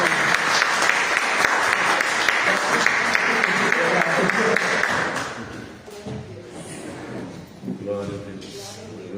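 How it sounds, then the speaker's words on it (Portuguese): Church congregation applauding the worship band during a service, loud sustained clapping for about five seconds that then fades into quieter room sound. "Uma salva de palmas para eles."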